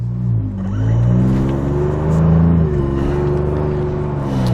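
A 2021 Ford Bronco fitted with an AWE catback exhaust drives along with a steady, throaty exhaust drone that rises and dips as the engine pulls, heard close from inside the cabin with no talking.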